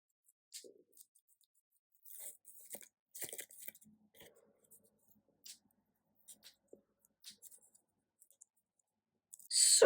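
Backing being peeled off double-sided tape and foam pads for card making, heard as scattered short crackly rips and clicks with quiet gaps between them, close and soft, ending in a louder rustle.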